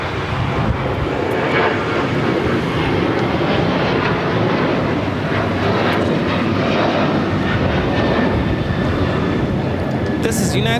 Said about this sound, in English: This is United Airlines 1662 taking off to Chicago on the 737-900ER.